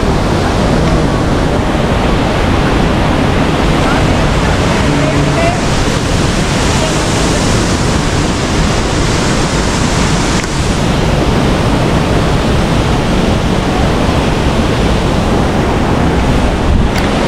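Dunhida waterfall in strong flow, a loud, continuous broadband roar of rushing water with wind buffeting, filling the whole stretch without pause.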